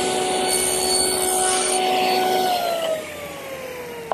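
A table saw makes a shoulder cut across the face of a tapered wooden leg, with the workpiece guided by a miter gauge set at zero against a stop block. The blade whines steadily under load, then drops pitch as it spins down after the cut.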